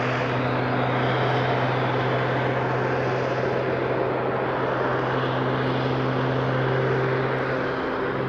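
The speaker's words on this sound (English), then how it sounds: "So this is into another hovering manoeuvre." A Pitts biplane with added jet engines, burning Jet A1, holds a hovering manoeuvre at the Bournemouth 2023 air show, giving a steady loud roar with a deep engine drone throughout and no pauses.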